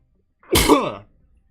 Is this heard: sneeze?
yes